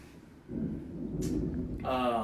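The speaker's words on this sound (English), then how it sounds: "If y'all heard that thunder in the background, you fucking with us tonight." Low rumble of thunder rolling in the background of a nighttime talk show recording, a steady broad roar that swells and lingers, with no speech over it.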